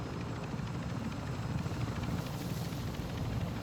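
Steady close helicopter rotor and engine drone from the Modern Warfare 2 DMZ video game, loud and continuous throughout with no voices over it.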